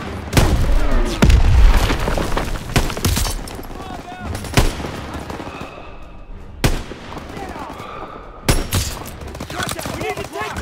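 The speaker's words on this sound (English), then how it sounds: "Gunfire! We must be near our guys." Bursts of gunfire and booming blasts from a World War II battle in the Call of Duty: World War II campaign, with several loud sharp shots spread through the stretch over a steady din of combat and soldiers' voices.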